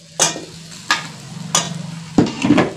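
Carrots and fried potatoes are stirred in a pan for a festive puja offering dish, four distinct scraping strokes of a spoon against metal over a soft sizzle, close and clear with no voices.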